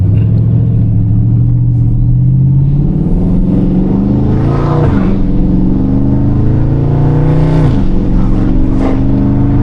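Dodge 392 Scat Pack V8 with catalyst exhaust revving hard: a loud, deep, continuous engine roar that climbs in pitch, drops briefly and climbs again, heard close up from inside the car.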